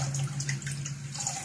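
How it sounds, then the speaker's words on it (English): Warm tap water runs steadily onto a reborn lifelike vinyl doll during a colour-change reveal, a soft continuous trickle with a low hum underneath and no talking. "I'm just going to put some warm water on it."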